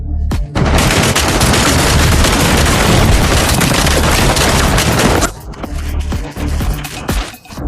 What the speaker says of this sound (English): opened the hatch and sprayed bullets